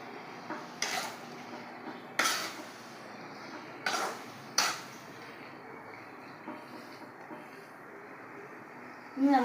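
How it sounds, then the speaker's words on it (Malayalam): Beef pepper roast is stirred in a pressure cooker pot, with a few scattered metallic scrapes and clinks against the pot over a quiet kitchen background, sparse and fairly soft. "ഇനി നമുക്കിത് ഇളക്കി കൊടുക്കാം."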